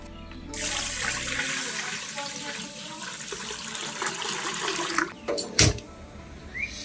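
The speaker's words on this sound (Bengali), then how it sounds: "এবার এগুলোকে ধুয়ে তারপর কাটবো চালটাও ধুয়ে নিলাম" Running tap water pours steadily while peeled ridge gourd, potatoes and rice are washed under it, then stops, followed by a few brief clatters and splashes nearby.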